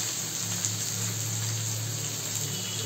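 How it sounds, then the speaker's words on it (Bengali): Chopped onions sizzling in hot oil in a wok, a steady dense hiss and crackle held at even loudness throughout with a low background hum. "পেঁয়াজটা কিন্তু সুন্দর করে আগে ভাজতে হবে লাল করে"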